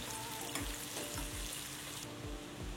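Green chilies frying in oil until crisp for avalakki chivda: a loud, continuous sizzle with repeated low scraping thumps as the pan is stirred.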